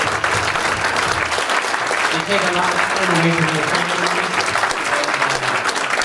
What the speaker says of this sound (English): I think we should give these people a big round of applause